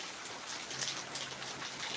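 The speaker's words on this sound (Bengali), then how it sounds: "এই এতটা বৃষ্টি হচ্ছে" Rain falls steadily in a soft, even patter of drops on surfaces, heard from some distance and fairly faint, with no other sounds.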